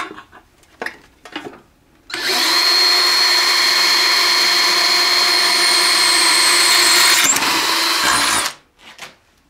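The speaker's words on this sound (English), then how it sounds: "here's the drill we're going to use. And we're going to use that to put the hole, start the hole" Small power drill starting a hole in wood: a few soft handling knocks, then a loud steady whirring motor run of about six seconds that cuts off abruptly, followed by light clatter.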